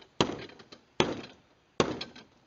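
A 7-ounce claw hammer strikes a fiberglass boat hull three times at a steady interval, each blow a sharp cracking impact followed by a brief rattling decay, close and clear with nothing else heard.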